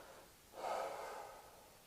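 A patient takes one slow, audible breath during a stethoscope chest exam, a soft airy swell that rises and fades without speech.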